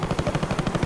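Automatic gunfire in Counter-Strike: Global Offensive, a brief, rapid burst of evenly spaced shots at about ten per second, loud and close with no talk over it.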